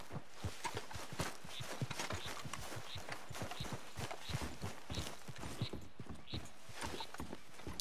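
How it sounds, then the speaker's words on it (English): Footsteps in the Red Dead Redemption 2 video game, a steady run of close hoof-like clip-clop steps with quiet talk faintly underneath. "I can hear footsteps."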